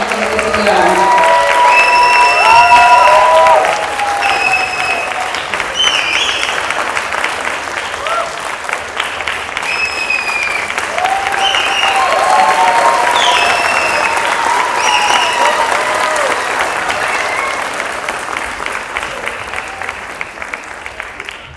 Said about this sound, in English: it's time for me to give you the clap